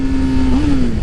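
Car engine on a race track during a gear shift, a steady loud drone with the pitch dipping and then climbing again as the gear changes, heard alone without talk.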